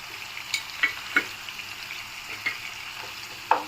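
Ginger garlic paste sizzles in a hot pan while meal maker biryani is cooked, a steady low frying hiss broken by several short sharp crackles and pops, with no voices.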